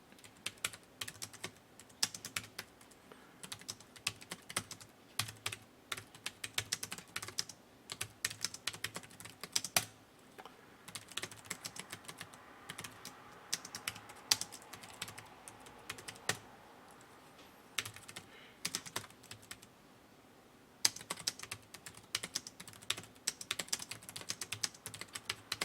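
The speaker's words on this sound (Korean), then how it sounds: "자, 계속 타이핑 쳐주시고요." Continuous fast typing on a computer keyboard during a Korean word-processing exam practice, with dense, close key clatter and irregular bursts of clicks carrying on without pause and no voices.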